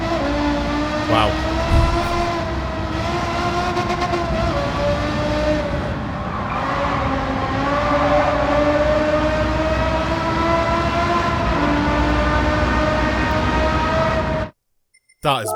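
A Porsche Carrera GT in Gran Turismo 7 screams at high revs, loud and steady with pitch sweeping up and dipping on shifts before cutting off abruptly near the end, with some speech over it.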